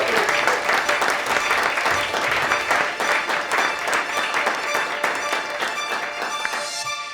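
An audience claps and applauds steadily to welcome Dr. Shini Somara onto the Futures Podcast stage, a dense, sustained round of clapping that fades slightly at the end.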